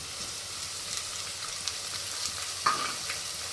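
Ginger paste fries and is stirred in a pan for mutton keema curry, giving a soft, steady sizzle with faint spoon scrapes and one brief clink near the end, fairly quiet and with no talking.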